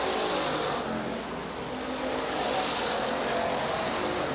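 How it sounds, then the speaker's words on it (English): Sportsman class stock cars race a heat at Rapid Speedway, their engines making a steady, loud, dense roar that barely changes and runs on without talk. "Dan, Sneller, and Van de Top here in heat race number 2 of 2 for the Lems Auto Recyclers Sportsman class"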